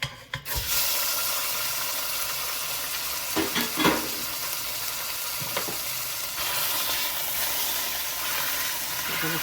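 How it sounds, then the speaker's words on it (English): Ground beef fries in heated sesame oil in a pan, a loud, steady sizzle and hiss with occasional stirring scrapes and crackling bursts, no talking. "I'm using 2 tablespoons of sesame oil, and I've already heated this up a little bit. I'm adding my ground beef."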